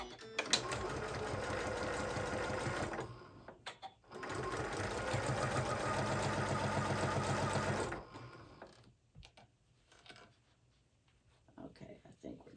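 A sewing machine stitches a tote bag with red thread in two steady bursts of rapid needle chatter, about three and four seconds long, followed by quieter handling sounds and brief talk.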